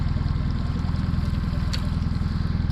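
Boat outboard motor running steadily on a forest river, a loud close low-pitched engine drone with a fast regular pulsing throb, continuous with no talking.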